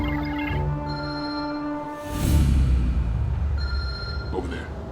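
Telephone ringing with a steady electronic ring tone that is cut off partway by a burst of louder noise, then resumes more faintly, in a futuristic action thriller scene.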